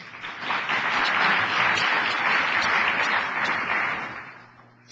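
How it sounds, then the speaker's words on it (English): Steady applause from an audience at a council presentation, a sustained wash of many hands clapping for about four seconds before tapering off. "Please give them another round of applause."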